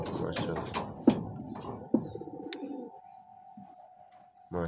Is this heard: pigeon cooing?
yes